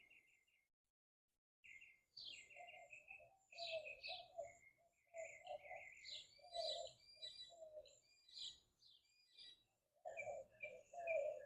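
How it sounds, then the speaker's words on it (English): Several birds chirp and warble outdoors in repeated bright phrases, fairly close, with quiet gaps between calls and no talking. "just listening to the birds"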